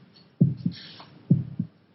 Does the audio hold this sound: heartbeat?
yes